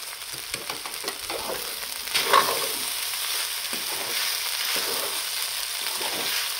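Sabudana khichdi with potato, green chilli and peanut powder being sautéed in a pan: a steady broadband sizzle with intermittent scraping stir strokes, fairly close, no voices.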